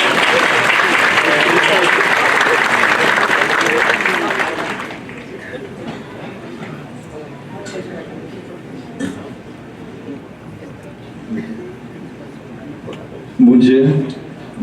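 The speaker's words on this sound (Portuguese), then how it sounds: "Uma salva de palmas." Audience applause at a pedagogical conference lecture, loud and dense for about five seconds, then cutting off abruptly to quieter room noise, with a voice starting to speak near the end.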